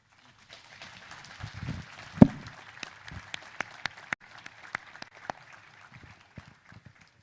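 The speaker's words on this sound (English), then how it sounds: "deserves another round of applause for his presentation" Scattered, fairly faint applause from an audience at a policy dialogue forum, a light patter of claps with a few sharp individual claps standing out, rising briefly and then thinning out.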